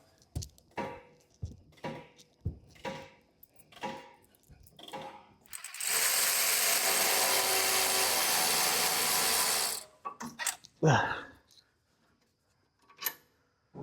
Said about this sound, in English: Now, we're gonna loosen this nut bolt right here, and that should allow this to drop.